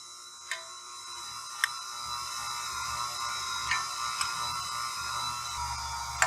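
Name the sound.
stand mixer on low speed mixing cake batter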